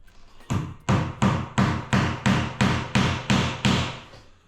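Hammer tacking architrave trim into place around a doorway, ten evenly spaced, solid thuds in a steady rhythm, close and loud with no talking.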